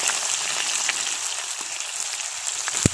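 Onions fry in oil in a pan over a wood-fired stove, giving a steady, close sizzle with a few small pops and no talking.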